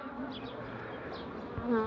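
Honeybees buzz softly around an open hive frame holding brood, in a hive recently split from one colony; the hum is faint and continuous, with a slightly louder swell near the end.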